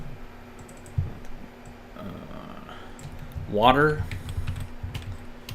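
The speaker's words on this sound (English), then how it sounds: "Typing it in as we talk." Light keyboard taps click quietly on a computer keyboard under a person talking, with soft scattered keystrokes and a low steady hum.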